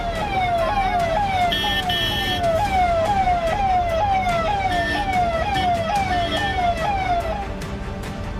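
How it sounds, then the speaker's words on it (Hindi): Wailing siren of an ambulance speeding along a road with an armoured police Vajra vehicle behind it, rising and falling in a steady repeating cycle, loud and close with traffic noise beneath. "तस्वीरों में आप देख सकते हैं एम्बुलेंस के पीछे एक वज्र वाहन भी तेजी से दौड़ रहा है, जिसमें मुख्तार अंसारी की सुरक्षा के लिए"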